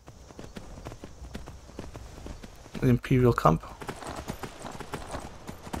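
Rhythmic horse hoofbeats clop steadily throughout in the video game Skyrim, with a burst of louder, clattering steps midway, while a voice speaks briefly over the galloping.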